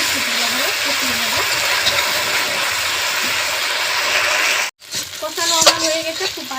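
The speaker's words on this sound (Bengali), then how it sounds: "হালকা একটু জল দিয়ে এবার আমি শুকনো করে কষিয়ে নেব" Spiced masala for an egg curry with raw potatoes sizzles steadily in a pan after a splash of water, a loud continuous hiss near the mic with a voice speaking over it; a brief dropout leaves a sharper crackle afterward.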